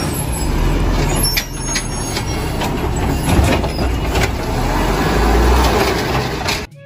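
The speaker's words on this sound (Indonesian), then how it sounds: "Lihat, ada mobil truk sampah" A garbage truck on a road, a loud, continuous heavy diesel rumble with air-brake hiss and passing traffic noise, steady throughout before cutting off abruptly at the end.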